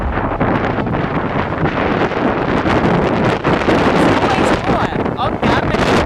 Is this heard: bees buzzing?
no